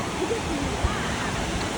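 Strong sea waves rolling in at Sunny Beach, Bulgaria, a continuous broad roar of surf heard close, with a faint voice briefly in the background.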